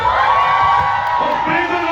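A live audience at a Hong Kong celebrity couple's public event cheers and shouts loudly and steadily, with whoops rising over a dense crowd roar that fills the whole moment.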